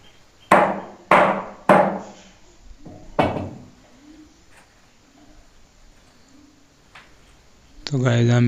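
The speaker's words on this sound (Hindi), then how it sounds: "तो केल आप हथौड़ी के साथ लगा सकते हैं।" Three loud, sharp hammer blows strike a wooden peg being driven into a charpai frame, evenly spaced, followed by a fourth softer knock and a few faint taps, with a brief burst of other noise at the end.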